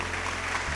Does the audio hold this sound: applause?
yes